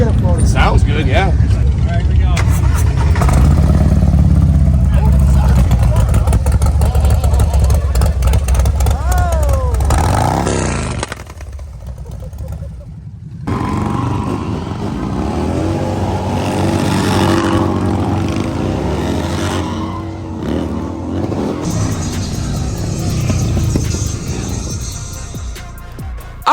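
A Harley-Davidson motorcycle with a 131 engine and a Cobra 2-into-1 exhaust rumbling loudly at a Sturgis rally, with deep revving and idling throughout and people talking over it.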